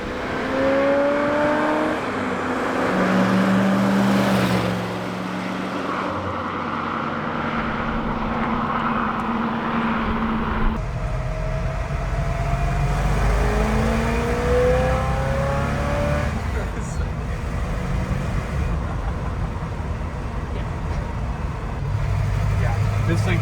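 A GMC truck engine with a Quadrajet carburetor revs repeatedly, climbing and falling in pitch, loud and close, with someone talking between some of the revs.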